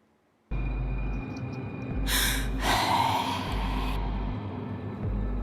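A breathing sound effect added during film post-production: a couple of loud, breathy inhales and exhales over a steady low hum, close and unaccompanied by speech.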